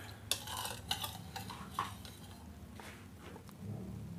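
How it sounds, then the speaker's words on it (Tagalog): Salt and brown sugar are stirred in a bowl for a lechon kawali sauce, quiet close-up spoon scrapes and a few light clinks against the side, no voices. "Haluin muna natin to hanggang sa matunaw o ma-dissolve yung asukal at saka asin."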